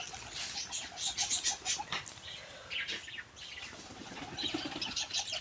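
Wild pigeons beat their wings in repeated flurries of flapping, with chirps and soft calls mixed in, fairly close and steady across the whole stretch.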